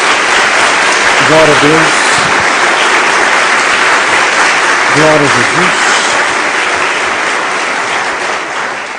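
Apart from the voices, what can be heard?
audience applause for Jesus in church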